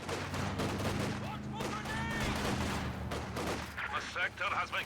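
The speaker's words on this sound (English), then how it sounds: "The MG, obviously." Machine gun fire in a competitive strategy video game match, with sustained bursts and heavy rumbling gunfire layered with distant explosions, while a voice talks over it and a chirpy effect rises near the end.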